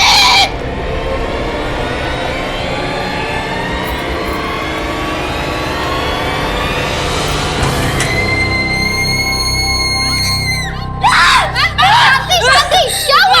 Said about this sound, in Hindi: आप इतना चीख क्यों रही थी?